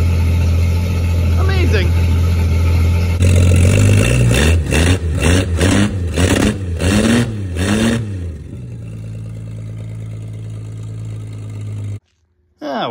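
An abandoned 1967 Plymouth Barracuda Fastback engine runs loudly, idling then revving in a series of surging bursts before settling back; a voice exclaims briefly over it.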